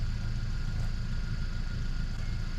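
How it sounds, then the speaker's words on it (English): Off-road vehicle engine idling beside a winch setup, a steady low rumble with a constant mid-range hum, even and continuous throughout with no talk. "I got her to start the engine there"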